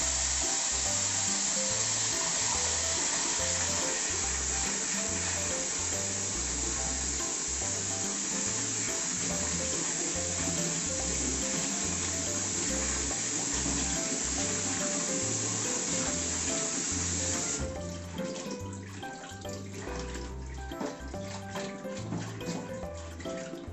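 Komatsuna greens are rinsed under a running kitchen tap, a loud, steady rush of water for most of the stretch, then the flow stops and gives way to wetter, irregular splashing and handling of the leaves.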